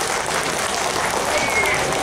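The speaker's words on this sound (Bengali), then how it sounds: "এই মানুষগুলোর কি একটা হাততালি প্রাপ্য নয়?" Audience clapping breaks out for the musicians on stage at the Rash Mela fair in Coochbehar, a dense, continuous wash of applause from a crowd, fairly loud and unbroken.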